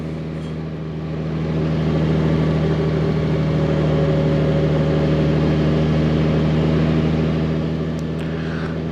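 A 2021 Honda Goldwing Tour DCT motorcycle engine drones while riding above 12,000 feet, a steady loud hum with wind rush that swells after the first second and holds evenly to the end.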